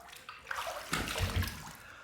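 Water splashing and sloshing in a sink as a face is rinsed after a shaving pass with spa shave cream, a close, soft burst of running and splashing water lasting a couple of seconds.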